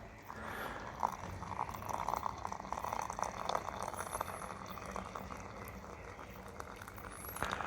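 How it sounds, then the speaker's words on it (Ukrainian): Boiling water is poured into a Fire Maple Star X1 integrated cooking pot, giving a soft, continuous trickling and gurgling fill with a few faint clinks, close and fairly quiet. "І, звісно, наливаю сюди кип'яток."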